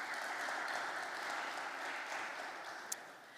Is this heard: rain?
no